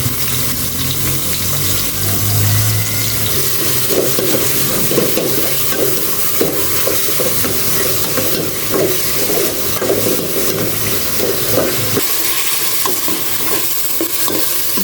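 Chicken sizzles as it is sautéed in a pan, with a steady frying hiss and repeated scraping stirs throughout, loud and close, briefly dropping lower near the end.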